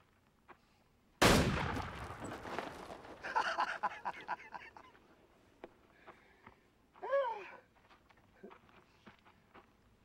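A gun loaded with blanks fires one sharp, loud report, followed by scattered footsteps and movement noises fading into a quiet room.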